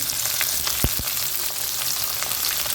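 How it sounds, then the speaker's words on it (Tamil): Chopped onions sauté in a pan for a spicy green peas kurma, giving a steady, close sizzle with a couple of soft knocks of a spoon against the pan. "இந்த வெங்காயம் அப்போ தான் கொஞ்சம் வதங்கும்"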